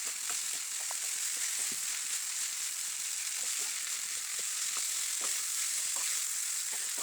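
Chowmein stir-frying over a high flame sizzles loudly and continuously in a pan, with faint scraping and clicking from stirring running through it. No one speaks.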